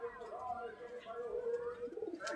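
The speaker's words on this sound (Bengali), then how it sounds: "এই যে আর একটা পায়রা দেখাচ্ছি বন্ধুরা, আমারই বাড়ির আন্ধ্রা ব্রিটের পায়রা।" Home-bred Andhra-breed pigeon cooing up close, a soft rolling series of low coos, with someone talking over it.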